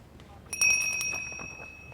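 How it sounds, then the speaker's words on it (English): Electronic bell rung to signal the start of an FEI Prix St. Georges dressage test at a CDI competition arena in Sydney, a single bright ring beginning sharply and sustaining as it slowly fades, with faint background murmur. "Just have to do the bell."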